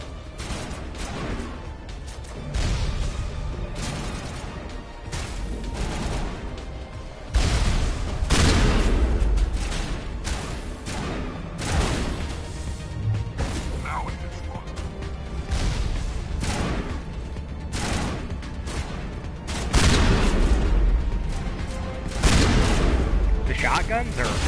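Shotgun fire in Mass Effect Legendary Edition: repeated loud, punchy blasts and crashes over pumping combat music, with someone talking throughout.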